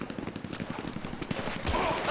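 Rapid bursts of automatic gunfire in GTA 5 story mode during a mission to save Lamar, dense rattling shots over a steady background with a louder burst near the end.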